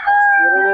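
A rooster at a Bocaue fighting-cock breeder's yard crows once, a loud, close, sustained call with a steady pitch that drops toward the end, under a faint background hum.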